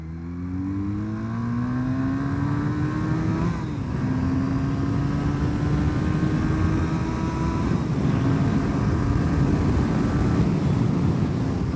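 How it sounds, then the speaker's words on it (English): A 36-year-old motorcycle pulls hard in second gear, its engine note climbing steadily after a quick shift near the start, loud and continuous with wind rush and no talking. "I'm now in second gear pull."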